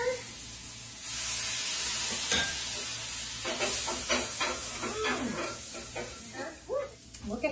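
Garlic in olive oil with a splash of red wine vinegar sizzles steadily in a pan, a constant hiss punctuated by stirring scrapes and crackles, fairly close.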